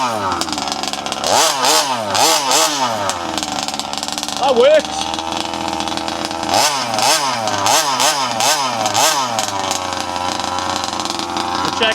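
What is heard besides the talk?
gas-powered RC car engine running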